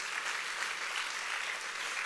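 A church congregation gives a soft, steady round of applause during a Spanish-language sermon; the clapping is faint and even, with no talk over it.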